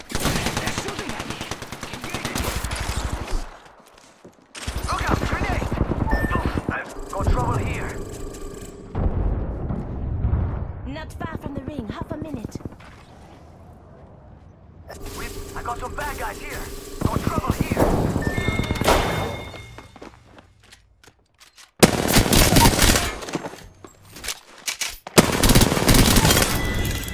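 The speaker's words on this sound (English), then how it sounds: "They're shooting at me!" Bursts of automatic gunfire from an Apex Legends duos match, rapid loud volleys separated by quieter stretches, with a player talking over the action.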